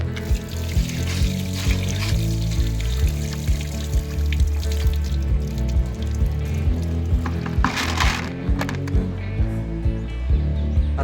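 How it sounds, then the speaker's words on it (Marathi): Clean water is poured steadily into a hydroponic fodder tray, a continuous splashing rush with faint regular pulses throughout and no talking. "आता परत स्वच्छ पाणी आपण टाकतोय त्यामध्ये."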